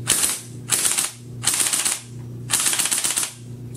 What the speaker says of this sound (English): This is how it sounds like with the CO2 tank.